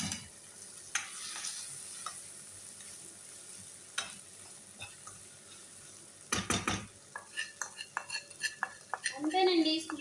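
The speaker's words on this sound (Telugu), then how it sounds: "బాగా వేగనిచ్చి వేగిపోయింది. దీంట్లో ఉప్మా నూక వేసుకుందాం." Tomatoes sizzling softly in a pan as upma semolina is added and stirred, with a low steady fry, scattered clinks and scrapes of a spoon against the pan, and a busier burst of stirring toward the end.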